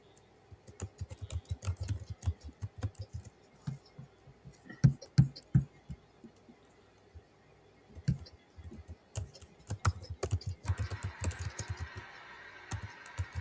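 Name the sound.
typing on a computer keyboard in chat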